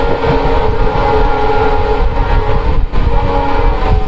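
The Howrah–Radhikapur Kulik Express, pulled by an ALCO diesel locomotive on its first LHB-coach run, gives a loud, steady, close rumble of engine and rolling wheels with no talk.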